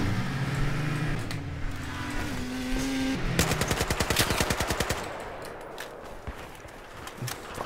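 Rapid automatic gunfire in a Battlefield 4 match, a loud close burst of evenly spaced shots rattling for a couple of seconds over engine-like rumble, followed by scattered fainter shots and battlefield noise.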